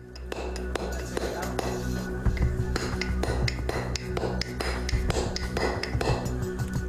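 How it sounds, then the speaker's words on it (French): Hammer striking a bronze chisel of ancient Egyptian type, giving a series of sharp metallic taps and clinks at an uneven rhythm over a low steady background hum. "Puis il teste un burin fait de bronze, matériau qu'utilisaient les Égyptiens."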